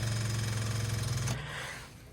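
A weak battery drags a car's starter into a slow, strained grinding crank that runs steadily then falters and fades, close and continuous with no voices.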